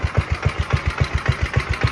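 The engine of a 1968 Massey-Ferguson MF10 tractor idles close by with a steady, even chugging pulse, just after a belt replacement and fuel filter installation.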